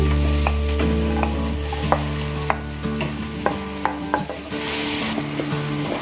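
Garlic sautéing in cooking oil for ginisang monggo: a steady sizzle runs throughout, broken by sharp clinks and scrapes of a utensil stirring in the pan.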